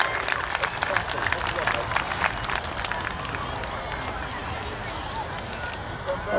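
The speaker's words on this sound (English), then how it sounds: "Big round of applause there." A crowd claps and cheers at a radio-controlled model plane flying event after a landing, dense applause running throughout with some talk and babble mixed in.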